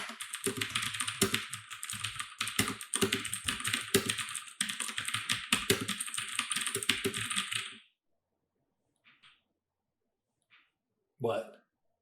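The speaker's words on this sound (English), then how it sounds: "you may annoy more of your coworkers with your clicking and clacking." Fast, clacky typing on a mechanical keyboard fitted with DSA Granite keycaps, a dense close-up burst of keystrokes for several seconds, then silence with a few isolated taps.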